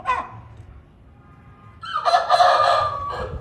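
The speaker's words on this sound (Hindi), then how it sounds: "ये मेरा काना मुर्गा है।" An aseel rooster crows loudly and close by, one strong cock-a-doodle-doo in the second half after a brief cluck and a quiet pause.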